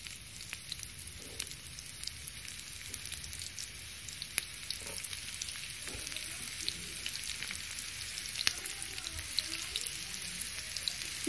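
Onions sizzle and crackle in hot oil in a frying pan while cooking moong masoor daal, a steady soft frying hiss with scattered pops throughout, fairly faint and close, no voices.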